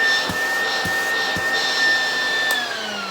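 A Hoover vacuum cleaner fitted with a converted hose runs steadily, loud and close, its motor whine holding a constant pitch and then dropping slightly near the end, with a few soft knocks over the hum.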